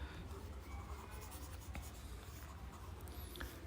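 Marker or chalk being erased from a board in a C programming lesson, a soft continuous scrubbing hiss held close over a steady low room hum, with no talk.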